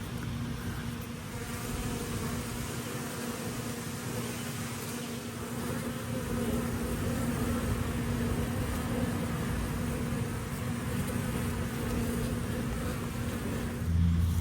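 Honey bees buzzing around a swarm trap hive outdoors, a constant dense drone of many insects with a steady low hum, continuous and fairly loud throughout, with no voices.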